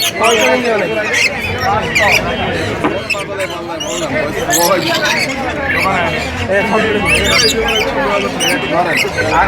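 Harsh bird squawks and chatter come thick and loud throughout, mixed with a babble of voices close by.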